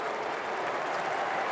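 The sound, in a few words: cricket crowd applauding a run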